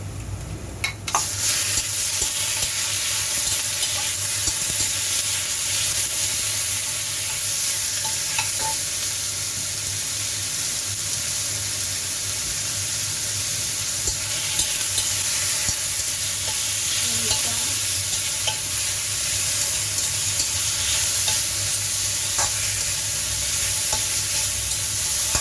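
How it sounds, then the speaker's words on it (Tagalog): Marinated pork frying and being stirred in a pan for a Chinese-style pork and potato stew, a loud continuous sizzle with occasional scraping from stirring, no talk. "Ano muna natin siya, i-fry natin siya maigi."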